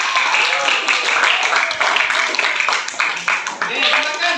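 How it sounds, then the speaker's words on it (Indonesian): A classroom of students claps for a classmate, the fast, uneven clapping mixed with chatter and voices throughout. "Oke, tepuk tangan untuk Rafi."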